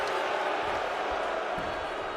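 Crowd at a men's Master of Melee grappling bracket at Grappler's Keep, a steady dense roar of many voices with a few thumps, loud and continuous throughout.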